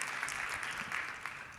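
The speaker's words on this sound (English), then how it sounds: "definitely give yourselves a round of applause for everything that you've done" At a leadership conference general session, the audience gives a round of applause, soft and slightly distant, with scattered claps forming a steady patter for a moment.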